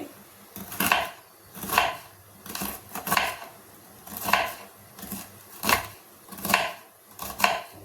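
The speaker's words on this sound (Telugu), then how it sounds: "కాకరకాయలన్నీ ఇలా కోసుకుందాం" A knife slices bitter gourd into thin rounds on a board, making a steady run of about ten crisp cuts at an even rhythm, close and fairly quiet, with no talk.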